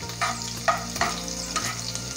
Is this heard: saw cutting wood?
no